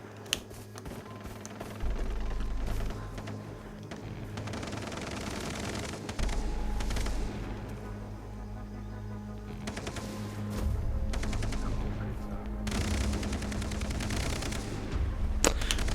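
Combat gunfire in the video game Far Cry 3, rapid automatic bursts rattling in several long stretches over steady game ambience, with no one talking.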